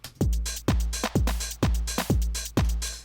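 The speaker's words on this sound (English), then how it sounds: "And I've got this drum machine pattern" Steady, evenly spaced electronic drum hits from a drum machine pattern in Logic Pro, quantized to 16ths, with booming kicks and crisp snaps, repeating in a rigid, mechanical rhythm.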